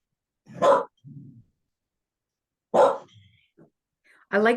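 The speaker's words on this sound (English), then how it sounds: "there goes my doggy" A pet dog indoors gives two separate loud barks a couple of seconds apart, with a faint low grumble after the first, then a person starts talking.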